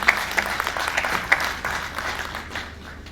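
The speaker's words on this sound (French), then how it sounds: "Sous vos acclamations." Applause with scattered cheers from an audience at a formal trade-union and ministerial gathering, a steady rush of clapping with a few sharper bursts, fairly distant and moderately loud, with no talk over it.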